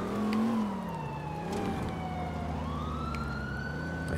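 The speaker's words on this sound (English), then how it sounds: "I hit a siren." A police car siren in GTA IV wails continuously, rising and falling over a low engine rumble, fairly loud and close throughout.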